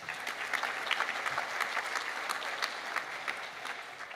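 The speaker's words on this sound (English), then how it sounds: "Tonight is about you, so give yourself a round of applause." A crowd at a volunteer recognition awards evening claps for the volunteers themselves: steady, moderately distant applause from many hands, even in level throughout.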